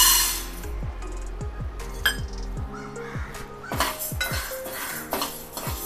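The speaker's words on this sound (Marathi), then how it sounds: "आता आपण हे एका भांड्यामध्ये काढून घेऊया" Roasted rice is scooped from a hot pan into a pot, giving repeated metallic clinks and scrapes of utensil on cookware at close range, with a faint caw in the background.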